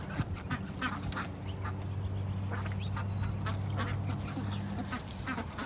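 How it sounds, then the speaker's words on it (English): Ducks quacking in a farmyard kept alongside chickens, repeated scattered quacks near and farther off over a steady background, no talk. "Ducks are over there having a heyday, doing their own little thing."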